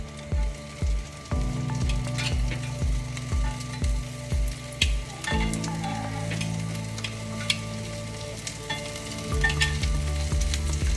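Salmon and asparagus frying together in a pan, a close, steady sizzle broken by regular rhythmic scraping pulses, then a denser hiss partway through, with no talking.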